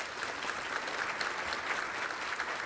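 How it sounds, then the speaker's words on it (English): Brief, steady applause from an audience at a rural healthcare summit, honoring scholarship winners, an even wash of clapping at moderate level throughout. "Let's give a final round of applause for all of our winners."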